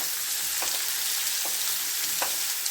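Ginger, garlic and onion fry in a pan for a paneer gravy, a steady bright sizzle running throughout with a few soft stirring scrapes.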